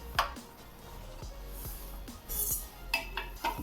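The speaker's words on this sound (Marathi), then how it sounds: "पाणी आता उतरून खाली ठेवते" A pot of boiled water is lifted off a gas stove and set down, giving a run of quiet metallic clinks and scrapes against a soft background hum.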